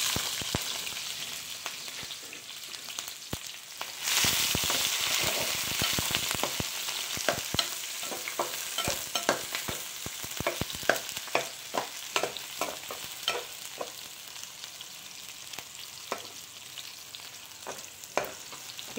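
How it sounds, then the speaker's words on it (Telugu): Onions and green chillies sizzle in hot oil in a small pan, a loud, continuous crackle that surges after about four seconds, with frequent sharp stirring scrapes and clicks throughout. "కొంచెం నూనె వేడెక్కిన తర్వాత ఉల్లిపాయలు పచ్చిమిరపకాయలు వేసుకోండి."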